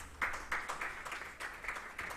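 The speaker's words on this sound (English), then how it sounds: "Can we give another round of applause" Faint, sparse applause at a youth summit: a few hands clapping in short, uneven bursts at a distance.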